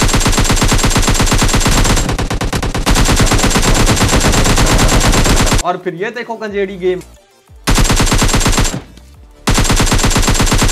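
Rapid, continuous automatic AKM gunfire in PUBG Mobile Lite blasts in long bursts, broken by a short pause where someone speaks excitedly.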